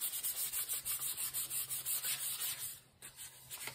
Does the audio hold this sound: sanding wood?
yes